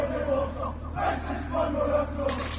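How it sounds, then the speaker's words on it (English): Rugby crowd in Samoa roaring steadily through a warrior dance, a dense continuous wash of cheering voices with chant-like swells and a brighter burst near the end. "each team does their warrior dance. And the crowd gets wild"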